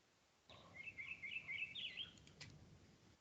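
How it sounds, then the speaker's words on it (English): A small bird chirps and tweets in a quick run of high, bright notes, moderately close and clear against a quiet background, followed by a couple of faint clicks. "I just hear the birds tweeting."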